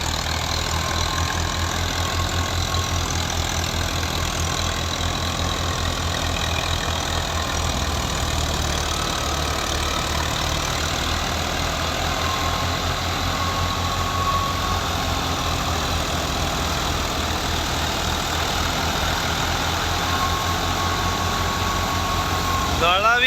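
A 2005 Al Ghazi tractor engine runs steadily at close range, a loud continuous mechanical drone with a low knocking rumble that holds unchanged throughout, with no voices.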